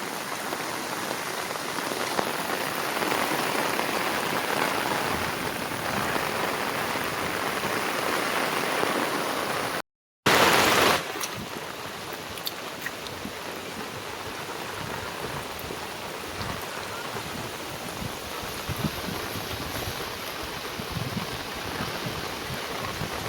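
Heavy monsoon downpour in Konkan, with river floodwater running over a bridge, drumming steadily and loudly throughout, broken by a brief dropout and a short louder burst midway.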